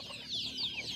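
Free-range native chickens on a farm cluck and chirp in a rapid overlapping chatter at moderate distance, with no talk over them.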